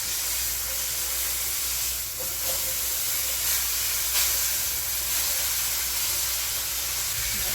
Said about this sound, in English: I want to sear it on as many sides as possible